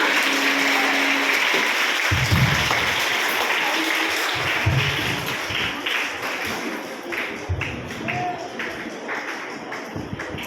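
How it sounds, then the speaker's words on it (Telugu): A group of children clap together at a Christian skit, giving a sustained, dense patter of applause that runs throughout and thins slightly toward the end. "క్లాప్స్ కొట్టారు"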